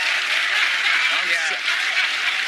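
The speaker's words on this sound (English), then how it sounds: "It's a slow clap." Slow clapping from a television studio audience in Cleveland, a broad steady wash of hands under a lively room that carries on without pause.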